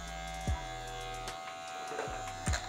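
Electric hair clippers buzz steadily while trimming a man's beard during a barbershop mid fade haircut, a continuous close hum broken by a few short louder passes against the face.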